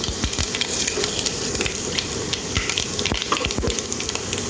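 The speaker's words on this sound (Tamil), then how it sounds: "ஆயில் சூடு சூடாகிடுச்சு மிளகு போடுவோம்" Spices such as black pepper and cumin sizzle and crackle in hot oil while black chickpea poriyal is cooked, a steady dense hiss with sharp scattered pops close up, no talking.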